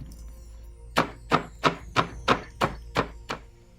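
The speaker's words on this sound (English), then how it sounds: "for the topping in the end, we crush some hazelnuts" Hazelnuts are crushed for a Viking porridge topping with eight even, solid thuds about a third of a second apart, close and fairly loud over a low steady hum.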